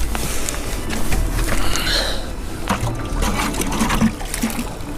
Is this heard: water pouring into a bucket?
yes